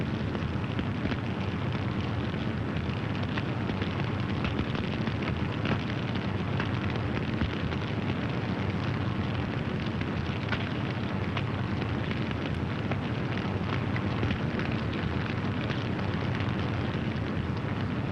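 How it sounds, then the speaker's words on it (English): A fire burns through a hut where ammunition is stored, giving a loud, steady roar of flames with continuous crackling throughout and no voices. "The fire is eating into the hut where some of our ammunition is stored."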